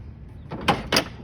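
A truck trailer door latch clacks through two quick, close, moderately loud metallic strokes as it is worked open and shut during a CDL pre-trip inspection, with no voices.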